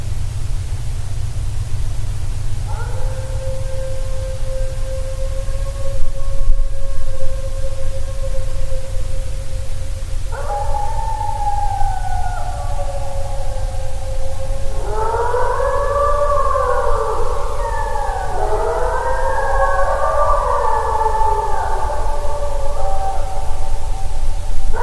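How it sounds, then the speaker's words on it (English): Long, deep wavering howls rise and fall over a steady low rumble and hiss, first a single drawn-out call, then several overlapping howls later on. "here's those final howls once again for you to listen to"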